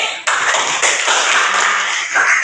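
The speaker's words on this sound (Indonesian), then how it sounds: "Tepuk tangan untuk Sulis" Classroom applause for a student bursts in after a quarter second and holds as a dense, steady wash of many hands clapping to the end, loud and close.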